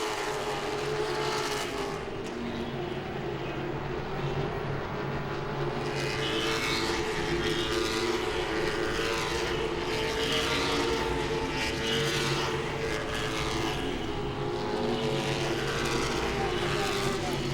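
Late model race cars racing at Langley Speedway, engines roaring continuously as cars circle and pass, loud and sustained with a commentator talking over the noise.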